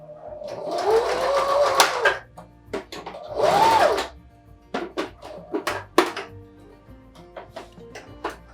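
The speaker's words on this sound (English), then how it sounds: "this is my chance to stitch that together" A sewing machine stitches a DIY rope bag in short bursts, each lasting a second or two and separated by pauses. Clicks and thunks of handling the material come in between, close and fairly quiet.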